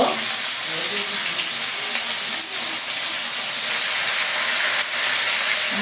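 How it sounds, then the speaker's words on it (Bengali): Chicken chaap fries on a hot tawa griddle in a home kitchen, giving a steady, loud, close sizzling hiss that holds evenly throughout with no talk. "চিকেন চাপগুলো দিয়ে দিতেছি এরকম করে আমি বেজে নিব"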